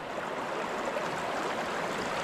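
A river near Nasugbu, swollen just after a typhoon, rushes in a steady, dense broadband wash of flowing water that holds at an even loudness throughout, with no voices.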